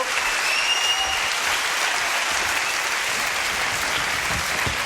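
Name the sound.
studio audience applause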